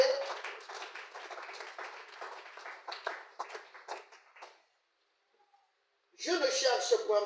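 A church congregation breaks into applause near the end, a dense burst of clapping that follows someone speaking and then a short hush.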